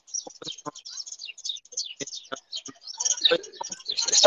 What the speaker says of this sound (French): Là, j'entends les oiseaux chez toi.